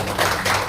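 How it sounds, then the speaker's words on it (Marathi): An audience at a felicitation ceremony in a press hall in Mumbai claps, a dense, brief patter of many hands at steady loudness. "त्यांच्यासाठी एकदा जोरदार टाळ्या होत्या।"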